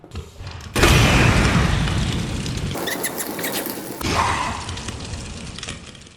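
Flame round from a GM79 grenade launcher explodes in Resident Evil 2, a loud booming burst that hits abruptly and is followed by a sustained roaring, crackling fire that swells again near the end.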